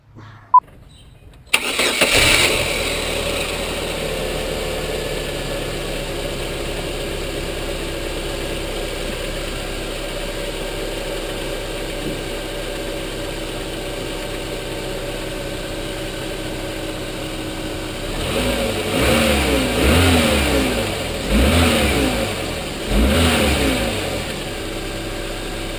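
A car engine cranks and catches, then settles into a steady idle for a long stretch before several revs rise and fall near the end, loud and close with no talking.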